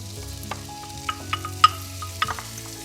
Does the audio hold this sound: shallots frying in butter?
yes